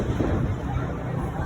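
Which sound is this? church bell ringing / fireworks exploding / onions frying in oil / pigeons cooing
fireworks exploding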